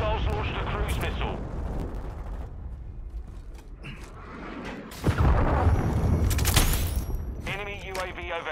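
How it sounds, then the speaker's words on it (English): Cruise missile strike in the Call of Duty: Modern Warfare II beta, heard as a loud explosive boom and rumble halfway through, amid game gunfire and mechanical noise, with radio-style voice callouts before and after. "Hostiles launched a cruise missile."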